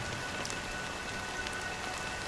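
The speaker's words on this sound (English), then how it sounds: "But it's still raining." Steady rain falling in a quiet, melancholy scene from the video game Honkai: Star Rail, in the Penacony area; a soft, even patter hisses on without pause, with scattered light drops and no voices.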